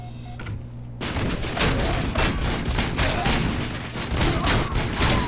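Rapid gunfire bursts in the video game RoboCop: Rogue City, dense and loud after a quiet first second, with continuous shots and impacts filling the rest of the stretch.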